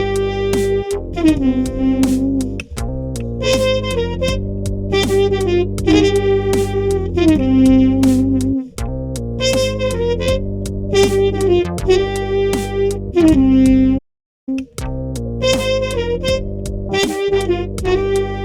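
Layered trumpet parts played back together as one multitrack recording, sustained brassy tones holding steady with short note changes, loud and close throughout, with a brief dropout near the end.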